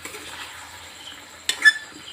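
Chicken curry with meat and potatoes is stirred in a pot, with soft scraping at first, then a sharper clink and scrape of the spoon against the pot near the end.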